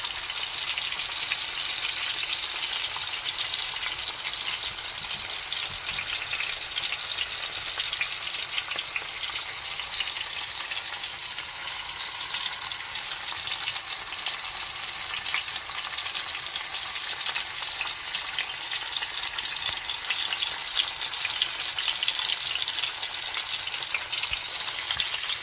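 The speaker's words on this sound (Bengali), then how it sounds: "এখানে আমরা আমাদের জাতীয় মাছ ইলিশ ভাজি করতেছি।" Hilsa fish fries in a pan, a dense, even sizzle of hot oil holding steady and fairly close for the whole stretch, with no voices over it.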